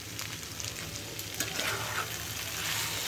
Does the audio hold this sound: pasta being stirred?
yes